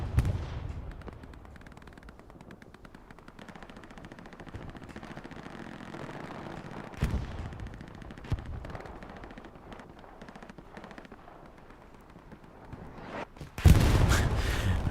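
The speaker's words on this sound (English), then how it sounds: "Classic artillery round." An artillery round explodes in the WWII shooter Hell Let Loose, on the Tobruk map in a competitive match. A muffled boom lands mid-clip, and a loud, sharp close blast hits near the end over a low rumbling battlefield backdrop.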